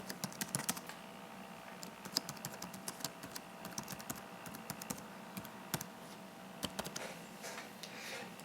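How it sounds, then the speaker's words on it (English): Quiet, irregular computer keyboard typing, a run of soft clicks and taps entering text with a few sharper keystrokes, close by and alone with no talk. "then type in the text you want."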